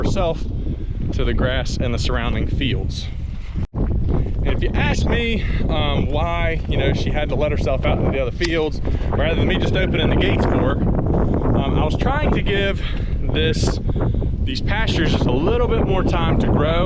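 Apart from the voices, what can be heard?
wind blowing into the microphone outdoors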